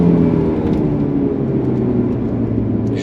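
Mercedes C200 4Matic car accelerating while overtaking on the road, a steady close engine and road rumble with a whirring drone and no talk.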